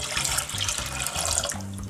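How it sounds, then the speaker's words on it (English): Milk poured into a pot of dissolved custard powder while making custard slice, a short steady splashing, gurgling stream close by with no speech. "just going to pour in the rest of the milk."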